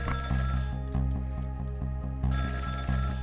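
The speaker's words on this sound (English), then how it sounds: "About 2 hours before dawn, the phone rang." A telephone rings in the Ghost Trick: Phantom Detective video game with a repeated electronic trill. Bursts pulse in a steady rhythm over a low, looping game music bed, fairly quiet and without any talking.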